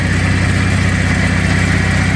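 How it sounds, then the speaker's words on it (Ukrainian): The small engine of a Venturo ET10KX mini crane runs steadily in battery charging mode, a loud, even close-up idle hum with a regular low pulse and no talking. "Ось так працює двигун в режимі зарядки акумулятора."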